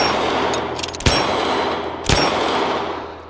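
Two sharp, loud pistol shots crack about a second apart inside a church, each a sudden bang over a steady background hiss.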